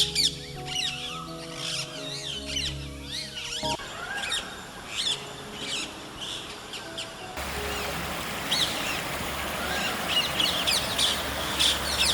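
Birds chirp and call repeatedly in a quiet forest beside an ancient cave temple, with a steady background hiss of a rushing waterfall.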